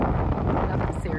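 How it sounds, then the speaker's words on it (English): Strong wind gusting across open ground in Iceland, with the Snaefellsnes mountain nearby, roars as a steady, loud broadband rush that buffets the microphone throughout. "It's quite windy."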